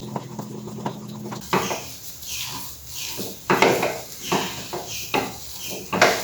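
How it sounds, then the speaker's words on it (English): Batter for sweet puran filling being stirred in a pan over a medium flame, with repeated scraping and rubbing strokes of the utensil against the pan, close and moderately loud with no speech. "Stir it continuously."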